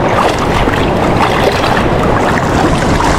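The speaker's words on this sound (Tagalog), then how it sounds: "Balikis yung mga alon dito mga master." Big ocean waves roll at a deep shorecasting spot in the Philippines, a loud, constant roar of surf mixed with heavy wind buffeting the microphone.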